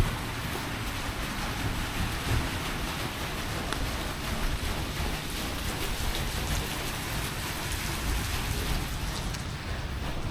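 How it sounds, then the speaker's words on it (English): A small waterfall on an outdoor walking trail produces a steady, continuous rushing splash that holds evenly throughout with no voices. "Nice little waterfall."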